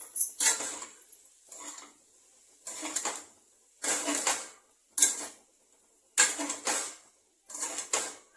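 Maggi noodles are worked through in a pan with roughly eight separate scraping, clinking strokes of a utensil, each short burst followed by a brief pause, close and fairly clear.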